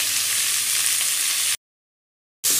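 Beans fry lightly in a pan with a close, steady hiss of sizzling oil, broken by a sudden gap of silence before the sizzle resumes briefly.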